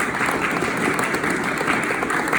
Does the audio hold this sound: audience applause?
yes